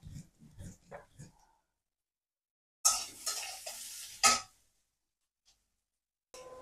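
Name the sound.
sautéing sponge gourd with onion, turmeric, chili and salt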